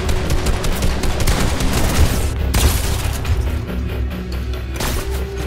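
Video game gunfire in dense rapid bursts, loud and continuous like automatic weapons and explosive booms, with a brief break midway before firing resumes, no talk heard.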